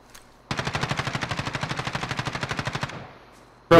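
Automatic gunfire in Call of Duty: Warzone, a rapid loud burst of about twenty-five evenly spaced shots lasting under three seconds, close and alone, then a short fading tail.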